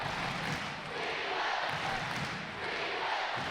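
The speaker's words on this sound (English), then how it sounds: "Listen to this crowd now" A large arena crowd roaring at an ice hockey semi-final between the Sheffield Steelers and Nottingham Panthers, a broad continuous wash of cheering at a distance, steady throughout and fairly faint.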